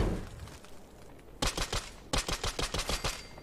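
Automatic rifle fire in Fallout 4, with two rapid bursts of loud, evenly spaced shots following a quieter stretch of low rumbling game ambience.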